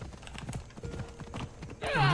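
A horse's hooves clip-clop at a quick, steady gait in the video game Assassin's Creed Odyssey, close and clear, ending in a louder burst of game sound with a whinny-like tone.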